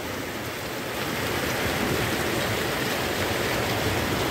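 A very heavy hailstorm with pouring rain, a dense, constant roar of hailstones and water hitting the ground, loud and unbroken throughout, with no voices.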